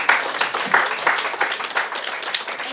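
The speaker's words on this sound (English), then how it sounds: "Please give her a big round of applause." A modest group applauds at a mental wellness club inauguration, uneven close-up clapping from a smallish crowd with a fairly steady, moderately loud texture.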